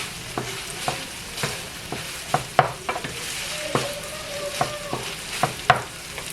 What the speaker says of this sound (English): I'm going to go ahead and add the rice